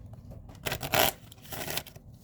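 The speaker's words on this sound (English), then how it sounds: "Let's give it another shuffle." A deck of tarot cards being shuffled close up, in two or three quick riffling bursts with soft rustling between them.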